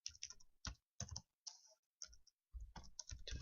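Someone types on a computer keyboard in short bursts of quick key clicks separated by brief pauses, close and fairly quiet in an otherwise silent room.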